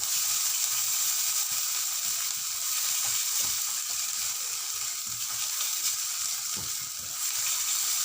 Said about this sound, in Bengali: এবার দিয়ে দেবো পরিমাণ মতো হলুদ গুঁড়ো আর স্বাদ মতো চিনি দিয়ে এটাকে আবার কষে দেবো